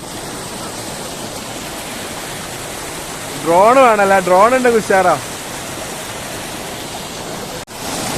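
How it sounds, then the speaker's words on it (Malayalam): A flowing stream at a resort in Wayanad, a loud, steady rushing of water throughout, with a voice briefly talking over it partway through. "നല്ലൊരു അരുവി രസം"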